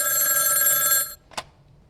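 An old-fashioned telephone bell rings loud and steady for about a second, then cuts off abruptly, followed by a short quiet gap and a faint click.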